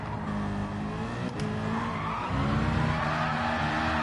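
A Citroen race car in a racing video game skids through a tight turn, its tires squealing loudly over a droning engine that rises toward the end, with no speech.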